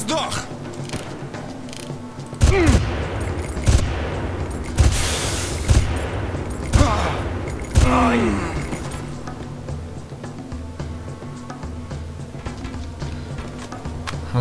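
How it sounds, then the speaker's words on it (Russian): Gunfire in the Far Cry video game, a run of loud close shots and bursts with booming impacts, irregularly spaced, under a steady droning game background, tapering off into quieter ambience. "Вот так вот мы постреляли"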